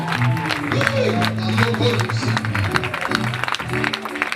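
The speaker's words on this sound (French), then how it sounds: "Fais encore monter les acclamations." A church congregation at a deliverance service claps and cries out in acclamation, a dense, continuous wash of applause and shouting voices close by, with a voice speaking over it.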